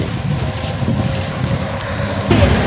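Rain falls steadily on Sri Pada mountain near Hatton, a dense close hiss with gusty wind buffeting the microphone, growing slightly louder toward the end.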